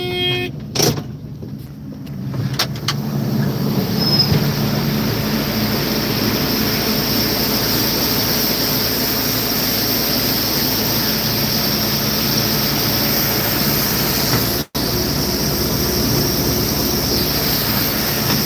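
A newly bought combine harvester on a Michigan farm unloads grain through its long auger, a steady loud mechanical drone and rush of engine noise running unbroken throughout, with one abrupt brief dropout near the end.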